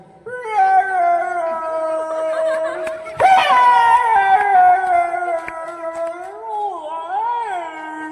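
A comedian performing at a cotton mill recreation club's anniversary celebration imitates a hungry dog's howl, a loud, sustained wavering vocal wail with rising and falling pitch lasting several seconds before a crowd.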